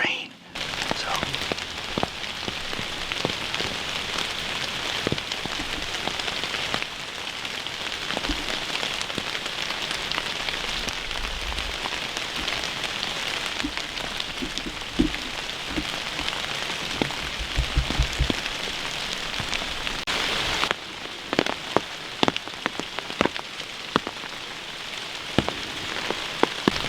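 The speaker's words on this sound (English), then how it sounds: "this is a real cold rain" Cold rain at about 45 degrees falls steadily outdoors, a dense continuous hiss with scattered drips and crackles on surfaces, while a person talks faintly under it.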